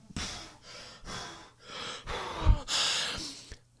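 A voice imitates out-of-breath panting, like someone exhausted mid-marathon, as a series of six or seven loud, ragged breathy gasps in an uneven rhythm, close and with no words.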